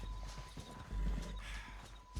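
Horse hooves clip-clop at a steady gait in Red Dead Redemption 2, close and fairly quiet, the rhythmic hoofbeats running throughout with a faint whinny-like tone and little else around them.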